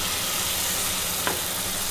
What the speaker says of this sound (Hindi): और इसे अच्छे से मिक्स करते हुए 1 मिनट के लिए भून लेंगे